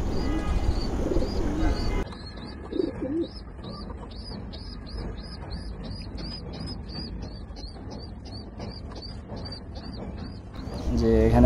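Pigeons cooing close by in a repeated rhythmic series of soft throaty calls through most of the clip, over a rustling background, with some brief louder noise at the start and end.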